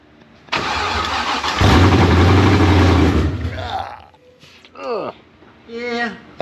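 A 1979 Fox-body Pace Car with a new supercharged Coyote engine and no exhaust cranks and fires up, roaring loudly for a few seconds before cutting out, followed by voices talking nearby.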